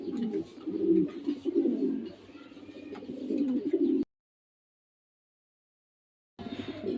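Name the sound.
blue checker pigeons cooing, male and female pair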